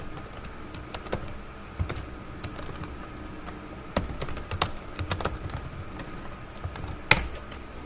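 Typing on a computer keyboard to enter a search query: a close, irregular run of crisp keystroke clicks with short pauses, and no voices.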